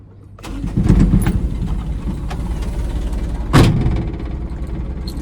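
A car engine runs steadily from inside the cabin while riding toward the beach in the UAE, with the air conditioning broken, and two brief louder knocks or bumps stand out over the low rumble.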